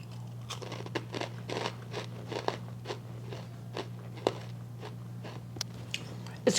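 Repeated crisp crunches of biting and chewing a hard, dry cereal bar, close up, over a steady low hum.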